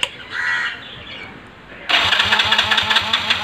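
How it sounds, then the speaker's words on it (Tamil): A motorbike engine cranked with the key, a short start then a throaty idle with rhythmic pulses close by, a crow cawing faintly in the first half. "இப்போ வண்டி நான் ஸ்டார்ட் பண்ணுறேன், கீ போடுறேன்."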